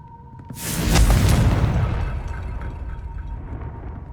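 Confringo fire spell blast in the Hogwarts Legacy video game, a single loud booming explosion that swells in after a short pause and then fades into a lingering rumble.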